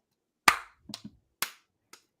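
A few sharp hand claps ring out one by one with short gaps, crisp and close in an otherwise quiet space.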